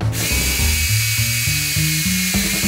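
Small electric motor of a homemade inverted V8 four-wheel-drive toy car running on series nickel-metal hydride batteries, a loud, high whining buzz that steps up and down in pitch in short surges, close and without talk.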